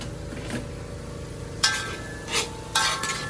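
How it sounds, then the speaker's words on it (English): Garlic, onion and paneer are stirred in a hot pan for metemgee, a low steady sizzle broken by a few scraping, clattering stirs, with no talking. "give that a stir. So I add my garlic, onion, and paneer."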